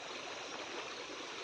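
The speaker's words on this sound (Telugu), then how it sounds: "పాలేరు వాగు ద్వారా ఉద్రికంగా ప్రవహిస్తుంది." Rain-swollen Paleru stream in the Mahanandi hill forest after heavy overnight rain, a dense continuous rush of flowing water, steady and unbroken with no voices.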